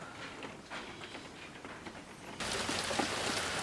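Rain falls on a Louisiana farmhouse, a steady soft hiss with scattered drops, swelling suddenly louder partway through.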